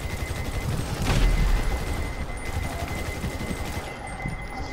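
Gunfire in GTA 5, a dense stretch of rapid shots with a heavier burst near the start, continuing steadily under game ambience.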